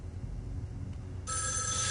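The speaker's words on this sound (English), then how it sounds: "Not answering that phone." A telephone in the video game Erica begins ringing partway through, a bright continuous electronic trill that starts suddenly over a low rumbling background and continues steadily to the end.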